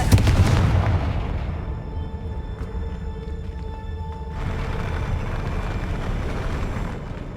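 Fiery blasting-spell explosions in the fantasy action game Hogwarts Legacy: a loud opening burst, then a rumbling decay, with a second roaring blast swelling about halfway through.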